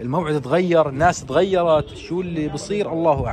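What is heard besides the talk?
No distinct noise like a dog, phone or traffic.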